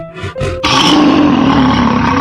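A tiger roars in a 3D animal slide video game, a loud sustained growling roar that comes in after two short grunting bursts and holds steadily to the end.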